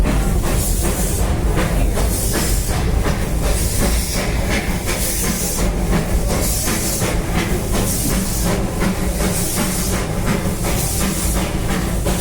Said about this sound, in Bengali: ট্রেনে করে যখন যাচ্ছি